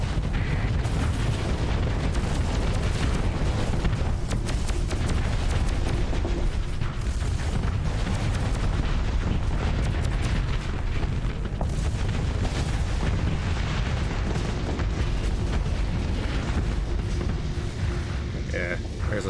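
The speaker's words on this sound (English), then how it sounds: "Yeah, there's those big plasma cannons." Heavy booming plasma cannon fire from large ships in a Starsector fleet battle, a constant dense barrage of blasts and rumbles throughout, loud and continuous, with some voices underneath.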